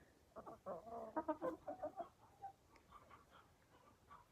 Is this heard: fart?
no